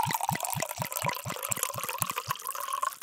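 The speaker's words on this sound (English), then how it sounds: "Pour me another glass, will you?" A drink is poured into a glass, a liquid stream with regular gurgling glugs roughly every quarter second, close and steady for about three seconds.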